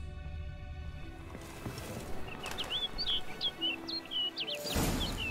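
Short, high bird chirps repeat through the middle of the scene in The Witcher 3, light and fairly close, over a low ambient rumble with some hoof-like thuds near the end.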